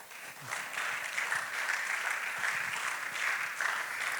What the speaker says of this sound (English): Please applaud.